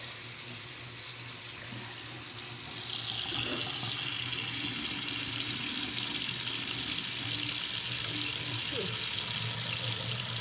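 Tap water running into a sink while a makeup brush coated in hot pink eyeshadow is rinsed, a steady close splashing hiss that grows louder after a few seconds.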